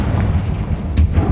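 Confringo fire spell blasting in a wizard video game, a low rumbling boom with a sharp burst near the end, carried over a steady dull game background.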